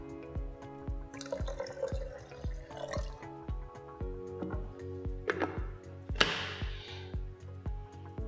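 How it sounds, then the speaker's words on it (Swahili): Water poured in a short splash into a blender while making passion fruit juice, with a second brief pour later, both heard under steady, loud rhythmic background music. "Naongeza maji kidogo."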